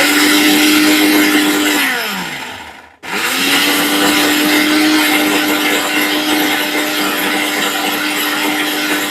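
A Prestige electric blender grinds chillies with a loud, steady motor whine that winds down briefly to a stop, then spins straight back up to full speed and keeps running.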